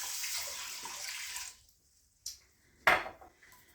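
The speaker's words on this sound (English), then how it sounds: "So we're going to add to that 2 cups of water." Two cups of water poured into a cooking pot for one-pot miso turmeric salmon and coconut rice, a steady close splashing stream that cuts off, followed by two sharp clinks of pot or utensil.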